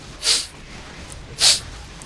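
Two short, breathy sniffs through the nose, spaced about a second apart, close and fairly quiet against a faint background hiss, during a Dota 2 match commentary.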